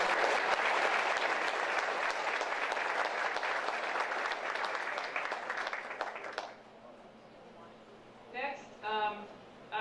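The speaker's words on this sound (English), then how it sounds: "So please give them a round of applause for all their work." Audience applause at a school district retirement and recognition banquet, many hands clapping steadily for several seconds before cutting off, followed by a quiet room and a few spoken words.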